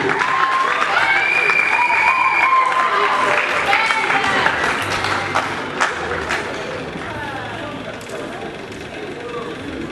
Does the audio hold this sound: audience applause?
yes